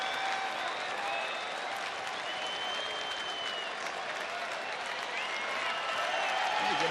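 Steady, dense applause from a large baseball stadium crowd, continuous and even throughout, with a commentator's voice faintly mixed in.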